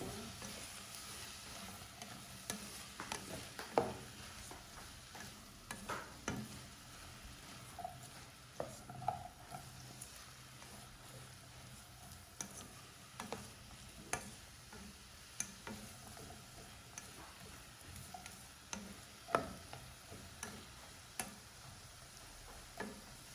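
Vegetables with garlic and green chilli are stirred in a pan, giving a faint, continuous sizzle with scattered spoon taps and scrapes over about twenty seconds.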